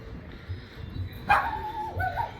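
Dogs bark and yip on a street in Carolina, Puerto Rico, a sharp close bark followed by whining yelps over low outdoor background noise.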